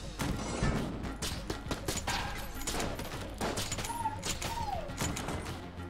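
Crossbow shots in the video game Enter the Gungeon: a steady run of short, punchy firing hits layered with clattering game effects, continuous throughout, with a faint voice beneath.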